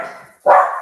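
Dog barking indoors during a Toastmasters training meeting: one close, loud bark that cuts in sharply and trails off, preceded by a fading earlier sound.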